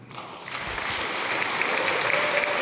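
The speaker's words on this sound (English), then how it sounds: "With a round of applause." Steady, fairly soft crowd applause greets guitarists walking onto a festival stage, a continuous even patter of many hands with no talking.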